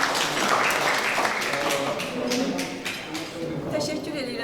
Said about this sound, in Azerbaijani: Bu alimimizi alqışlayaq